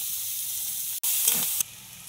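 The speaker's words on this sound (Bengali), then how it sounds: "পেঁয়াজ দিয়ে দেবো," Sliced onions dropped into hot oil in a wok already holding cumin seeds, whole garam masala and bay leaves, giving a sudden loud hiss that continues as a bright, steady sizzle.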